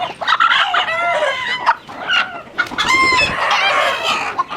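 Broody hens cluck close by in a busy, overlapping chorus of clucks and squawks, with occasional louder calls breaking through the steady chatter.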